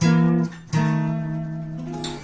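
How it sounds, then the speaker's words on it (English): A guitar plays a descending "wah wah wah" failure phrase: a held note, a short break, then a longer note sliding down and sustaining, heard up close with no talking. "It's a kind of a sound you play when you have a fail."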